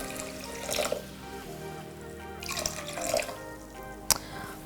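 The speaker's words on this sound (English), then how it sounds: "I've got water here, but I'm only adding 1 cup worth." Water poured into a pot holding two cups of white sugar in a home kitchen, a soft steady trickle and splash with a few brief louder spurts, quiet and close, no talk.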